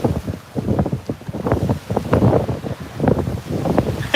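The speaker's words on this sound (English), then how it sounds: "Yeah, it's stupid windy right here. We were getting 50-mile-an-hour gusts." Strong, gusty wind with reported gusts near 50 mph buffets the microphone near water during fishing, giving irregular roaring surges and low rumbling bursts throughout.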